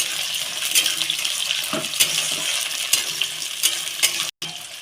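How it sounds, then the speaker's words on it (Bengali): Onions frying in oil with dried red chillies and bay leaf for chicken biryani, a steady broadband sizzle with occasional scrapes and clinks of stirring, close and continuous with no talking. "পেঁয়াজটা ভালো করে ভেজে নেব"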